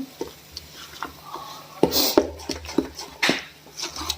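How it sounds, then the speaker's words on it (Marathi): Turmeric and about three and a half spoons of salt being mixed together in a bowl, with clinking utensil taps and scraping stirs in short irregular bursts, fairly close. "आता हे सर्व एकत्र करून घेते"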